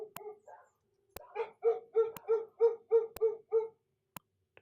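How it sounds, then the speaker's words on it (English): Several dogs bark in the retro computer adventure game The Colonel's Bequest, a string of about eight evenly spaced, fairly loud synthesized barks, with a few sharp clicks scattered between them and no talk. "Appears the dogs are getting closer."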